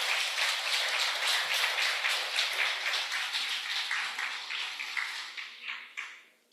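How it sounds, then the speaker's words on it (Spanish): Sustained applause from a church congregation after a welcome, many hands clapping densely at once and tapering off near the end. "Denle un aplauso al Señor."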